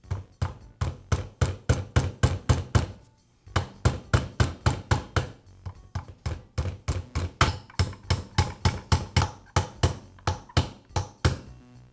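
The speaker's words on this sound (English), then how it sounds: "And then I'll secure it with the roll pins." Roll pins tapped with a hammer into the trigger valve of a Porter Cable roofing nailer: a long run of rapid, sharp, evenly spaced metallic taps close by, pausing briefly before continuing in steady bursts.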